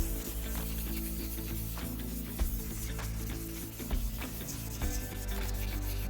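Continuous scraping of sandpaper rubbed back and forth on an oxidized car headlight lens, close up, over a low steady hum.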